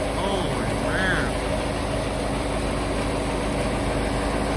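A tractor engine idles with a steady, close low rumble on a snowy farm, with a voice briefly speaking over it.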